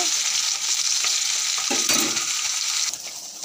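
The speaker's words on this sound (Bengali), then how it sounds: "আর এখানে যে মাছ ভাজা হচ্ছে" Dhela fish sizzles and crackles in hot oil close by, a steady frying hiss with occasional stirring scrapes and pops.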